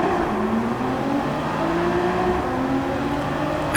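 A Nissan R35 GT-R Nismo racing on a Tokyo circuit in Gran Turismo 7, its engine droning steadily loud and near with pitch rising and falling through gear changes, alone without speech.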